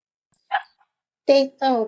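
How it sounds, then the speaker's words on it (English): Dogs bark nearby in a home in the Miami–Fort Lauderdale area: a short yelp, then two louder, close barks in quick succession, with no talk over them. "You might hear the dogs now."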